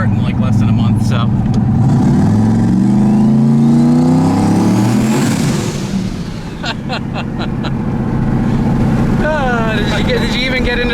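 Turbocharged LSX-swapped Colorado truck accelerating, its engine revving in a loud, rising drone that peaks mid-clip and then eases, with people talking over it.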